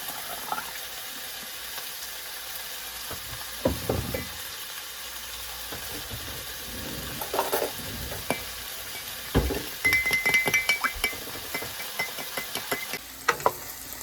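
Fried rice with rice wine vinegar sizzles softly in a pan, a steady low hiss with scattered clicks and stirring scrapes growing busier toward the end, no talking.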